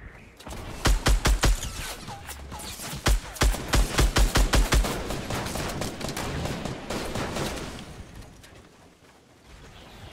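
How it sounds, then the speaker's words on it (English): Rapid bursts of gunfire in a Fortnite squad match, several fast volleys of close shots in quick succession, then a denser wash of game action sounds fading toward the end, with no talk. "I'm shooting the trailer."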